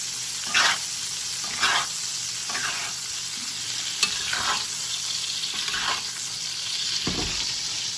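Steaks sear in a hot pan with a continuous bright sizzle, broken by several spitting bursts and a deeper thump near the end, heard up close with no speech.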